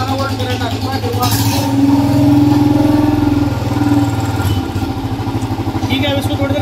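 A Royal Enfield motorcycle with a suspect magnet coil runs its engine in a steady close thumping idle that swells slightly in the middle, while someone talks over it.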